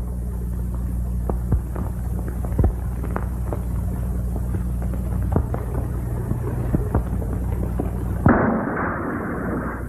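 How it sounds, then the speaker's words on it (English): An explosion at a frontier relay station, heard as a sudden loud burst near the end that leaves a lingering rumble, following a stretch of steady low hum and scattered faint knocks. "That explosion sounded like it came from the relay station."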